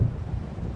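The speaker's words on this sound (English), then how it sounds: "It seems there's a storm coming." Low rumbling thunderstorm from the video game Alan Wake Remastered, set by the sea near Diver's Isle, a steady dense roll of thunder with rain underneath, fairly loud and continuous with no voices.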